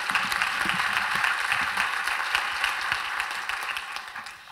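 Steady applause from an audience at an ecological-transition finance event, a dense, even wash of many hands clapping at moderate distance, continuing without talk.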